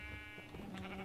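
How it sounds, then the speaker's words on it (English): Sheep in a modded Minecraft world bleat in a short, wavering call over low game ambience, the cry clear and close across the whole moment. "And our cows and sheep."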